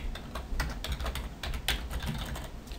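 A message typed on a keyboard, with a steady run of close, quick key clicks and taps at an even pace, with no talk.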